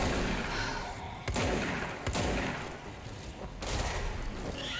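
Dense gunfire and explosions from the video game Control fill the clip, a steady barrage with a few sharper shots standing out, without voices.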